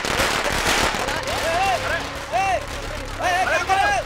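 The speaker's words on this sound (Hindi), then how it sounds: "पटाखे फोड़ो" Firecrackers set off in a Hindi dubbed action film: a dense crackle of loud bursts at first, thinning out as people shout over them, with whistling sounds rising near the end.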